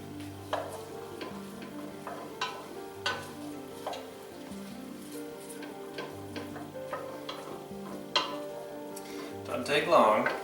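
Onion frying and being stirred in a hot pot over a strong fire for a lobster bisque, a steady sizzle broken by repeated scraping stir strokes, with a louder clatter near the end.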